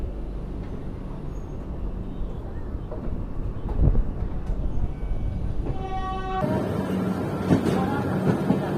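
Double decker express train departing Ghaziabad station, a steady low rumble of wheels and engine with a tonal horn-like whine rising partway through, close and continuous.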